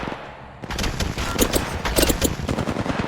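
Rapid automatic gunfire in the mobile battle royale game Apex Legends Mobile, loud close bursts of shots in quick succession starting after a brief quiet moment and continuing steadily.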